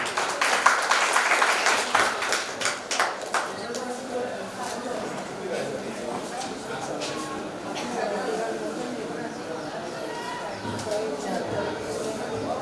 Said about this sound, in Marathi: टाळ्या वाजवल्यास तर जोरातच वाजवा